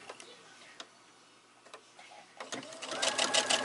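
A sewing machine stitching down quilt fabric strips for a strip quilt block with a piecing foot, starting as sparse ticks and soft clicks, then building into a steady rapid whirring run toward the end.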